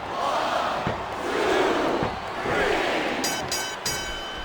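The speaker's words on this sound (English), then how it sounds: "I love hearing the crowd come alive" A virtual arena crowd in the WWE SmackDown vs. Raw wrestling game roars and cheers continuously, swelling and ebbing in loud waves, with a few sharp piercing whistles near the end.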